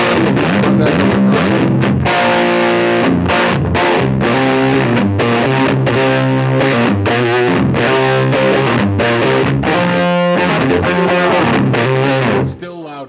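Electric guitar through a new Catalinbread pedal, loud, distorted and muddy, chugging in quick rhythmic chord stabs and riffs for about twelve seconds before cutting off, with faint talk underneath.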